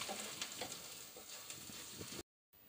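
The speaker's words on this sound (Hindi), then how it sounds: "लहसुन और अदरक भी कुछ देर मैंने इसमें पका लिया है" Garlic and ginger cooking in a pan make a low, steady frying sizzle with a few soft stirring sounds, then cut briefly to silence near the end.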